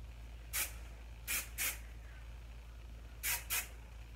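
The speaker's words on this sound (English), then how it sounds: "So as I'm spraying it, I'm going to kind of pull these sections down just a little bit." A hairspray can sprays onto hair being styled into spikes, in five short hissing bursts, one alone and then two quick pairs, heard close over a low steady room hum.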